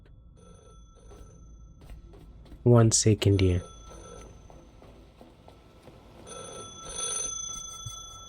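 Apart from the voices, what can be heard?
telephone ringing in video game The Last Caretaker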